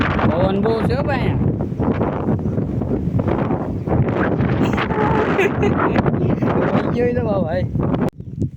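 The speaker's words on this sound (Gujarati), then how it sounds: "પવન બહુ છે ભાઈ." Heavy wind buffets the microphone outdoors on a hilltop viewpoint near a Hanuman temple, a loud continuous roar with gusting rumble throughout, someone talking over it, dropping away abruptly near the end.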